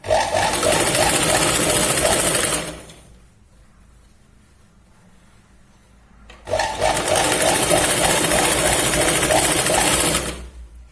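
Two loud, steady bursts of a sewing machine stitching a Punjabi salwar, separated by a quiet pause of a few seconds, each run a fast rhythmic whirr close by.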